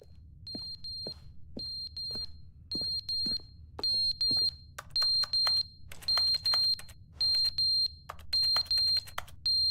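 Shrill electronic alarm beeping in a steady repeating pattern, short high tones spaced apart at first, then longer, denser beeps that continue alone over a low background hum.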